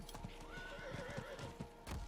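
In the video game Diablo IV, a horse gives a rising whinny over a quick, steady clip-clop of hooves, quiet and close.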